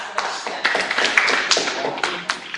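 A group applauds in a room, with a burst of close, brisk hand clapping lasting a few seconds and voices mixed in.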